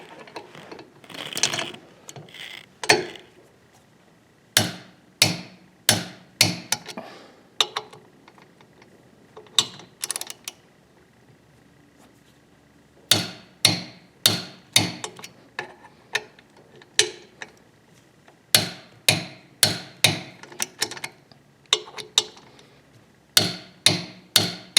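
A torque wrench tightens swing arm bolts on a Kawasaki ZH2, with close, sharp ratcheting clicks arriving in quick bursts separated by short pauses.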